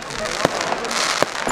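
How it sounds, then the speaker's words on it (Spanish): Fireworks on New Year's Eve in Berlin, with sharp cracks and pops of bursting rockets and firecrackers over a loud, dense crowd murmur, the bangs sounding fairly close. "aquí los cohetes solamente se los permiten tronarlos una vez al año, que es hoy mismo, y por eso está a morir de cohetes"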